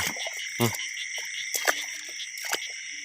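Frogs croaking in a rice field at night, a few loud close croaks standing out over a steady insect-like chorus, with faint human sounds in the background.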